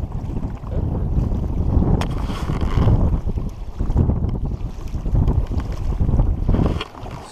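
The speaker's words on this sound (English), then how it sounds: "So freaking windy." Strong wind batters the microphone on a fishing boat at a reservoir, a loud, continuous low roar that surges and eases in gusts.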